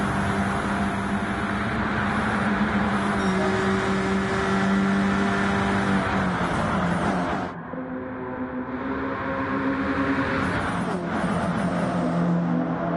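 A pack of stock race cars roars past at the Daytona 250, engines droning loud and sustained before the sound drops and a fresh wave of cars sweeps in.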